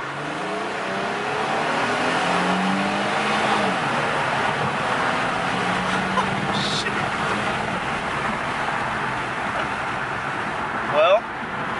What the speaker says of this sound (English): you can hear a lot of induction noise, so it sounds really good